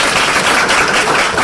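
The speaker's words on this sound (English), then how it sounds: "Give me a round of applause." An audience gives a brief, loud round of applause, a dense burst of clapping that fills the whole moment.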